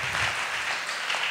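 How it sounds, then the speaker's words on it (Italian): A crowd gives applause to Vittorio Sabelli at a talk and music gathering, a soft, continuous rustle of many hands clapping heard from some distance. "C'è un bel applauso a Vittorio."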